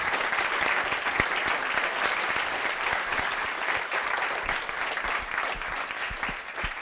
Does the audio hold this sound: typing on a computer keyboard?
no